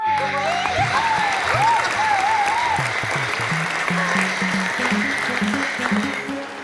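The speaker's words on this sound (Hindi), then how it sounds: "तालियां बजा दो।" A studio audience at a Hindi sitcom comedy taping bursts into sustained applause, dense and loud clapping throughout with a faint crowd murmur, while a musical jingle plays underneath.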